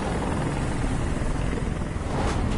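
Helicopter in the video game Detroit: Become Human, a steady, loud rotor drone with continuous low thumping throughout, close and unbroken, with no talk.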